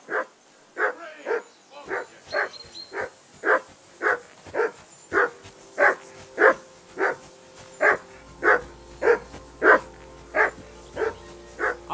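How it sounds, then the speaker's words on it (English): A dog in the medieval game Kingdom Come: Deliverance II barking steadily, about twenty evenly spaced woofs at moderate distance, with a faint low hum joining partway through. "I assume you can hear that damn dog of yours barking."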